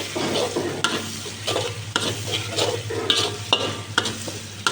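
Spices being sautéed in a pan, with a steady frying sizzle under repeated scraping stir strokes roughly every half second, close and moderately loud with no talking.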